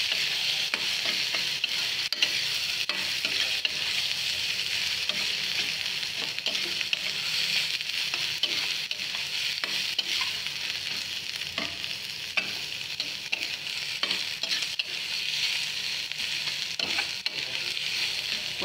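Chana dal pulusu stirred while frying in a pan, a steady dense sizzle with continuous scraping strokes of the spoon, close and even throughout with no talking.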